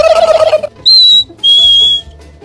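A person whistles imitations of wild turkey and black-capped chickadee calls, a rough warbling burst followed by two clear, sustained high whistled notes, loud and close with no talking.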